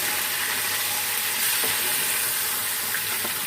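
Chicken pieces frying in a pot for degi-style korma, giving a steady, moderately loud broadband sizzle with faint scraping stirs, no voices.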